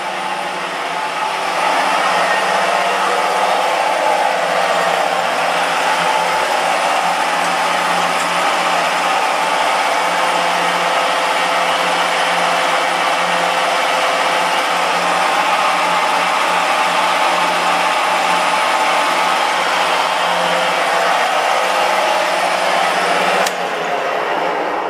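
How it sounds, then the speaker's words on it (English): A machine's automatic feed motor and main spindle run together under power, making a continuous broadband whir that stays steady and fairly loud. It cuts off abruptly near the end. "That's the automatic feed motor working, as well as the other one, the main spindle."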